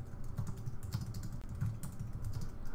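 Typing on a computer keyboard, with quick irregular keystrokes clattering at close range. The sound is fairly quiet and steady, with no voices.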